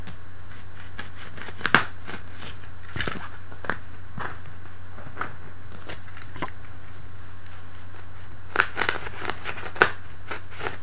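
A fabric rotary cutter finishes trimming missed spots in pinned fabric, giving a few sharp crisp slicing clicks and scrapes over a quiet background, irregularly spaced and close.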